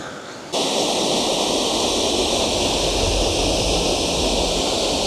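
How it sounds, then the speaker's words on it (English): Waterfall near Kirkjufell on Iceland's Snæfellsnes Peninsula; a dense, loud, steady rushing roar of falling water that cuts in abruptly after a moment of quiet and continues unbroken to the end. "Seems like there's a waterfall around every corner."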